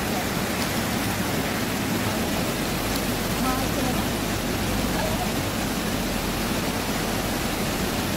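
Jatinga waterfall rushes as a loud, steady, broadband roar of falling water that fills the whole clip without a break, with a voice faintly under it.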